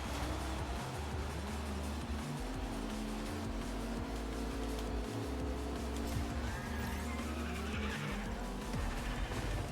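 Race car engine in the game Rocket Racing on Xbox Series S revs continuously while tires squeal and skid through long drifts, loud and close, with no talking.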